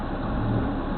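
A car engine idles steadily and continuously at close range during a roadside traffic stop, a low rumble with no talk over it.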